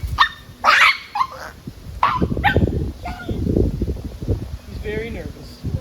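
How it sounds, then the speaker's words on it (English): A nervous puppy on a leash cries, whimpers and gives short yips in bursts, close by, with rustling and someone talking softly between the cries. "The dogs do tend to cry a little bit, but they have to realize that they're okay with having this leash on."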